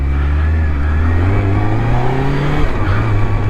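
A 2005 Triumph Daytona 650 motorcycle engine with fuel injection holds a steady, loud drone on a test ride, its pitch rising smoothly and then dipping slightly, close and continuous throughout.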